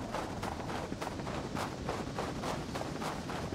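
A rapid series of muffled booms and cracks from geological charges exploding in the game Rust rolls on continuously, dense and rumbling like distant blasts going off one after another.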